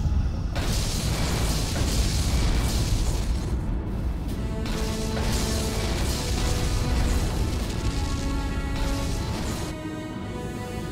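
A Klingon vessel blows up in the Star Trek Legacy space combat game, a loud sustained roar of explosions and crackling debris with repeated bursts over about eleven seconds, no talking.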